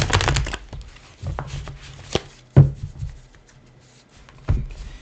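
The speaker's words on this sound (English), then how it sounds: "Some overhand shuffling to get these cards mixed up" Tarot cards shuffled overhand at close range: a handful of brisk, papery slaps and riffling bursts spaced unevenly across a few seconds, with quiet rustling between them and no talking.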